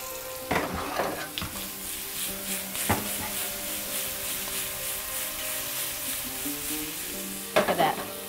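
Shrimp sizzles steadily in a hot pan with torn curry leaves and Kerala spices, with a few sharp clatters of stirring near the start and again at the end. No one talks.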